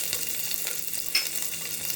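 Crushed green chilli and ginger sauté in a hot pan with a steady, close sizzle and light stirring scrapes, alone without any voices.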